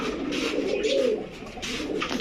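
Pakistani Kaldom pigeons coo in a loft, a low rolling murmur that swells near the middle and keeps going, close and fairly loud with no voices.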